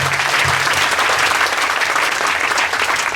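A church congregation applauds loudly and steadily, a dense close wash of clapping that fills the whole moment.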